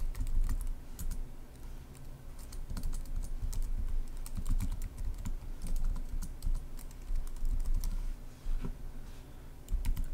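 Fingers typing on a Mac computer keyboard while setting up a Minecraft CraftBukkit server, a steady run of close, soft key clicks with an irregular rhythm over a faint background hum.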